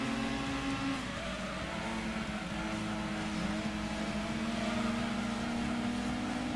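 A race car engine in Gran Turismo 2 holds a steady buzzing drone at high revs, with small pitch shifts as it accelerates, and runs on without a break and with no talking.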